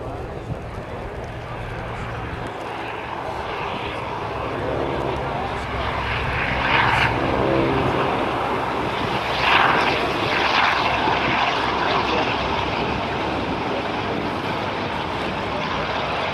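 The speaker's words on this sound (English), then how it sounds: "the Hawker Sea Fury on the roll" Steady roar of a Hawker Sea Fury propeller fighter's engine building on a takeoff roll at an airshow, loud and continuous, with a crowd or commentator's voice faintly underneath.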